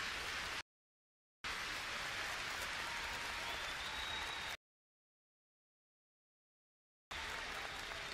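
Arena crowd at a live esports match, a FaZe vs. Fnatic Counter-Strike semifinal on Overpass, roars in a loud, steady wash of cheering and applause, broken by abrupt silent gaps.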